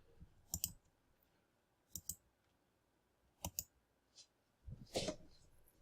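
Sharp computer mouse clicks come in separate pairs and singles, roughly five or six in total, spread across a quiet room. A softer, fuller click or bump sounds near the end.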